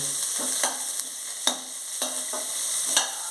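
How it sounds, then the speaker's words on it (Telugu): Chopped onions frying in hot oil for kodo millet upma, a steady bright sizzle broken by regular scraping stirs of a spoon against the pan, close up with no talking. "వేగిన వెంటనే దీంట్లో మొదటగా ఉల్లిపాయ వేసుకోవాలండి కట్ చేసి పెట్టుకున్న ఉల్లిపాయ ముక్కలు"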